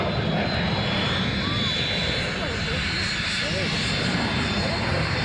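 Continuous loud roar of a Hawker Hunter jet flying overhead at an airshow, steady and powerful, with faint speech in the background.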